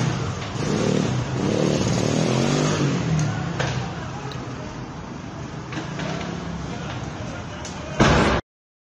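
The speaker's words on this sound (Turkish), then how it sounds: "Lastikler patlıyor." Tires burst on a burning LPG-fuelled car: a sharp, loud bang rings out near the end over the crackle of the fire, with a few weaker pops earlier and people talking in the background.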